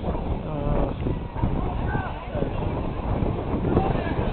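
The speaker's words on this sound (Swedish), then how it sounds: "det blåser väldigt mycket jämfört med förra året" Gusty wind buffets the microphone outdoors at a midsummer celebration in Djurö, Värmdö, rising and falling in rough bursts while faint voices and crowd activity sit underneath.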